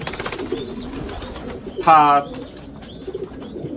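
Pigeons in a pigeon loft let out one short, clear coo midway, with someone talking close by before and after it.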